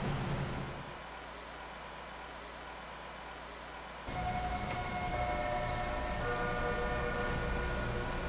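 A TTC Line 1 subway train in the openBVE simulator rolls into a station with a steady rumble and a hum. A thin tonal whine rises partway through, and a recorded announcement plays over it.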